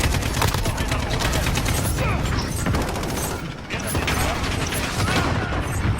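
Rapid gunfire from the video game Call of Duty Black Ops Cold War, dense and continuous with bursts and mechanical clatter throughout, loud and close with no talking.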